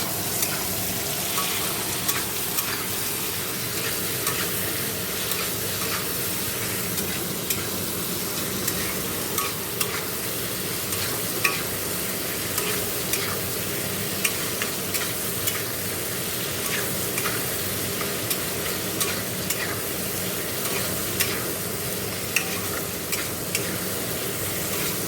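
Bengali egg curry fries in a pan while a spoon stirs it, a constant close sizzle broken by frequent light scraping taps against the metal, steady throughout with no talk.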